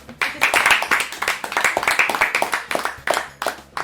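A few people clap by hand during a casual Burger Quiz game session, a close, uneven burst of sharp claps with irregular rhythm and a faint voice underneath.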